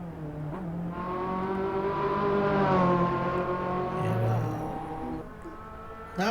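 A Ferrari in the Assetto Corsa racing game, its engine note rising steadily under acceleration, easing off during braking, then rising again, loud and close with no talk over it.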